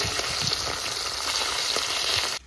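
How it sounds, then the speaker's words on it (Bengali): River fish shallow-frying in oil gives a steady close sizzle with soft crackles throughout, then it cuts off abruptly near the end. "নদীর মাছ তো বেশি কড়া ভাজা দেবো না, হালকা করে ভেজে নেবো একটু।"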